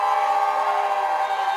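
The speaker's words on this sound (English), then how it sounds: "He fakes a handoff to Johnson, but whistles blow beforehand." Referee whistles at a college football game blow together in a sustained, shrill, piercing blast lasting the whole moment, loud over faint crowd noise.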